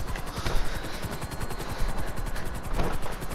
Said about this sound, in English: the helicopters are so hard to crash into